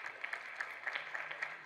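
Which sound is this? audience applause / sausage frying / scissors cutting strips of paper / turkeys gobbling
audience applause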